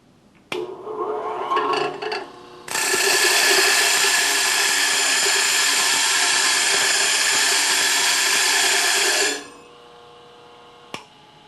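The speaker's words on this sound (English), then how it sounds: "with just a few seconds work with the stone dresser, cleaned up the stone and removed all the aluminum that was embedded in the surface of the stone" In a machine shop, a stone dresser is pressed against a spinning grinding wheel loaded with embedded aluminum, giving a loud, harsh, steady grinding roar for about seven seconds after a brief rough start, then cutting off.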